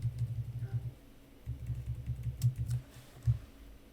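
Computer keyboard arrow keys tapped in quick clusters of soft, close clicks, with a short pause before another rapid run of presses.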